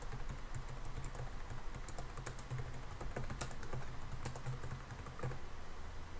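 Keys clatter on a computer keyboard while text is entered in AutoCAD drafting software, a quiet, continuous run of rapid, uneven clicks against a faint low hum.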